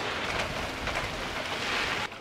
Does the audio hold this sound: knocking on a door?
no